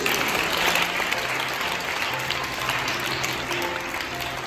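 Children applaud during a Christmas mass in a church, a broad, continuous wash of many hands clapping at a steady level for several seconds, heard from a little distance with a faint murmur of the crowd.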